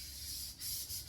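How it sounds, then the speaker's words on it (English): A car body is sanded by hand in a single car garage: a faint, close rubbing hiss in short uneven strokes. "Finishing up some sanding"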